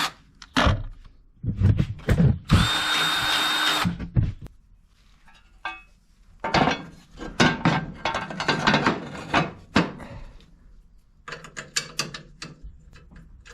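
Power drill driving bolts into a cast iron cook stove part: loud, close bursts of mechanical whirring and ratcheting that start and stop repeatedly, with short quiet gaps between them and no talking.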